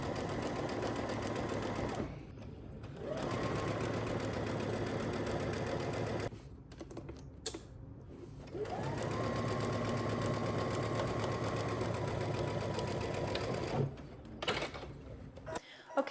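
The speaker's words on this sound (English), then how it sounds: "We're gonna head to the sewing machine and we're just gonna be doing one really long straight stitch" A sewing machine runs one long straight seam on a pair of pants, a steady motor hum in long stretches broken by brief pauses, heard up close.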